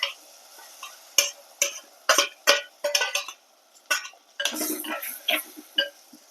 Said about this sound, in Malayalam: നല്ലതുപോലെ ഇളക്കി കൊടുക്കുക